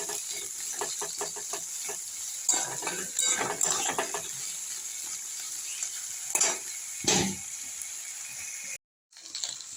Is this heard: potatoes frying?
yes